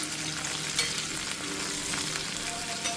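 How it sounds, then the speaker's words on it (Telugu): Aloo methi fry of potatoes and fenugreek leaves sizzles in a pan while being stirred, with a soft continuous frying hiss and occasional scrape of the spoon, fairly quiet and close. "ఇప్పుడు మొత్తం మనం కలిసేలాగా కలిపేసుకోవాలి"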